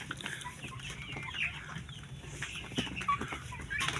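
Several KUB chickens cluck and murmur nearby in a low, busy chatter, with occasional sharper calls over a faint background.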